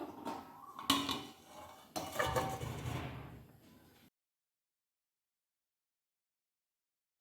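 Pieces of fish added to a pan and covered with a lid while cooking a green jackfruit curry: a few seconds of clattering metal and sizzling, with two sharper knocks, then sudden silence.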